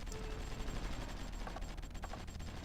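Gunfire in the strategy game Supreme Ruler Ultimate: faint, steady bursts of distant rifle and machine-gun fire rattling continuously under a low background rumble.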